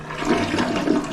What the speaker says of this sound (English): Nice flush.